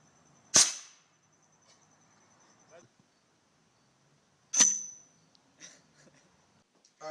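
An airsoft gun fires an AA battery into a ballistic pendulum: two sharp, loud cracks about four seconds apart, each followed by a brief ring and faint rattling in an otherwise quiet room.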